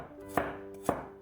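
Knife chopping peeled garlic cloves into thin slices on a cutting board, two sharp, close taps roughly half a second apart over a faint steady hum.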